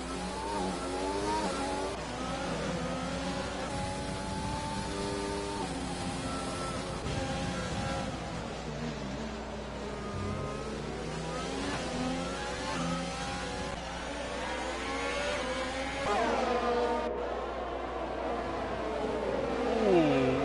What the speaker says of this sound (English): Seabury in second with some mediums here, so maybe if Seabury can get a good lunge here, he might be able to get an overtake done into turn 1.